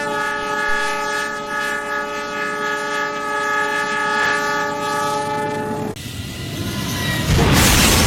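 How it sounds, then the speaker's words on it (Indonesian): A train horn blares in a long, loud, continuous blast as the train nears, then cuts off into the roaring rush of the passing train. "kereta api semakin mendekatinya dan terus-menerus membunyikan klaksonnya"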